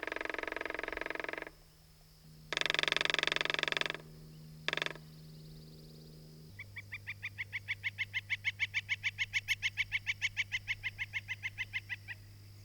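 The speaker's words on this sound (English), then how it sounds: "This is a northern flicker." A northern flicker woodpecker calls in the open, with a few loud drawn-out cries, then a long steady run of rapid repeated notes that swells and holds near the listener.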